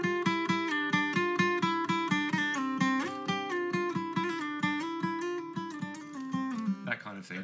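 An acoustic guitar plays a steady, repeating plucked melody on the third string against ringing open notes, close and clear, ending with a brief strum.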